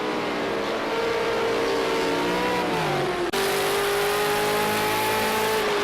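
V8 Supercar race car engines roar in a racing video game at the Algarve circuit, a loud sustained whine that dips during a shift and then climbs steadily again.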